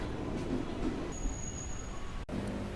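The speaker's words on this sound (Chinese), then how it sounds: "这边的列车据说是日本退役下来的二手火车车厢" Second-hand Japanese train carriages at a Jakarta commuter station make a continuous low rumble with a faint high metallic whine, under an even background hum with no speech.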